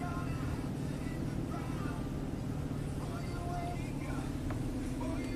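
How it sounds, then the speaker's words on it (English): A Nissan car engine idling after a throttle body cleaning, a steady low hum that holds constant throughout, with the idle gradually settling lower. "And you see the idle is dropping."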